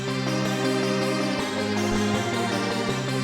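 A dense, sustained synthesized MIDI melody for a trap beat plays at steady volume with layered tones and no break, heard alone.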